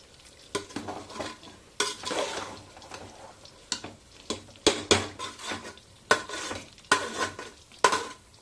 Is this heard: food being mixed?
yes